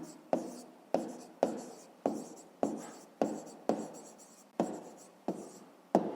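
Pen writing a math answer on paper for a fifth-grade rounding exercise: about a dozen crisp, evenly spaced strokes, close and quiet, with no talk.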